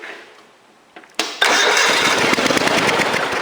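A Cub Cadet 3050 four-wheel-drive garden tractor engine cranks briefly, then catches and starts, settling into a loud, steady idle close by.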